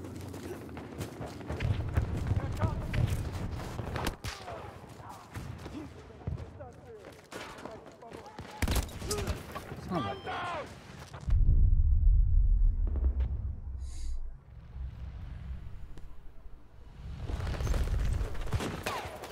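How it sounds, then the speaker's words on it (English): Battlefield 2042 bombardment and gunfire, with rumbling explosions and scattered shots of varying distance, a deep booming blast midway, footsteps and movement nearby, and a voice talking over the fighting. "They're bombarding that area."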